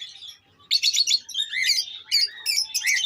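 Cockatiel chicks chirp up close in a quiet room, a rapid series of high, scratchy begging calls in short clustered bursts.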